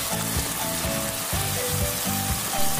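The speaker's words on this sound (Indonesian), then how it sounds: "Setelah itu, kita aduk-aduk, tunggu sampai mendidih, kita tambahkan kecap manis." Spicy-sweet lamb stir-fry simmering in a pan, a steady close bubbling and sizzling with soft irregular stirring scrapes throughout, no voices.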